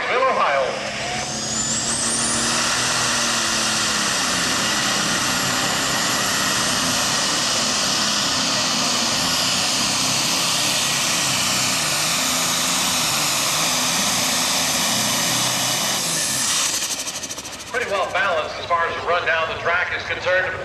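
A pulling truck at a truck and tractor pull event roars steadily down the track at full, loud power for most of the run, with a high whine layered over the engine, before it cuts back and a voice comes through.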